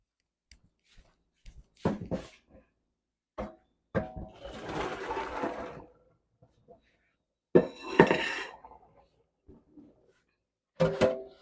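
Water runs in short bursts as green beans are rinsed in a kitchen sink, with splashing and clattering of a colander between quieter pauses.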